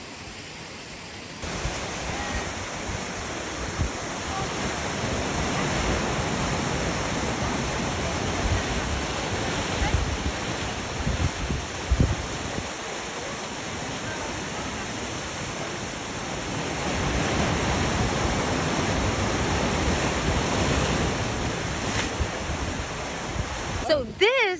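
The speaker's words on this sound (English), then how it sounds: "so this is exactly where the waterfall starts to fall" El Chorro waterfall near Tambor, Costa Rica, at the spot where the water starts to fall: a steady, loud rushing roar of falling water that runs on without a break, close by.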